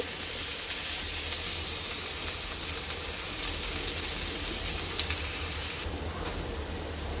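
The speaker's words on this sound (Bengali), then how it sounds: "পেঁয়াজটাকে আপনারা ভেজে নেবেন" Chopped onion frying in a pan for a Bengali ridge gourd and egg dish gives a steady, even hiss of sizzling oil that holds loud and close, then drops slightly near the end.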